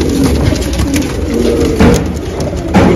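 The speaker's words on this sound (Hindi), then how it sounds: "ये देखिए पिक्का कबूतर, बहुत ही बेहतरीन लाजवाब कबूतर है पिक्का" Pikka pigeons among a flock of show pigeons for sale coo softly and repeatedly, close by, with rustling and background bustle.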